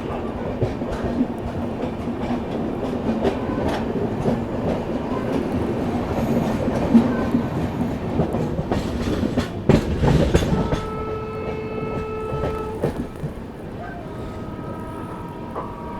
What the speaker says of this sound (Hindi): हैदराबाद निज़ामुद्दीन दक्षिण सुपरफास्ट एक्सप्रेस।